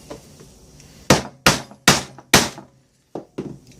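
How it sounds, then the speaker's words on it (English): Sharp hammer blows setting a medium rivet into a leather sheath for a Pathfinder bushcraft knife: four loud, evenly spaced strikes, a pause, then two lighter taps, all close up. "this is just going to be a standard rivet"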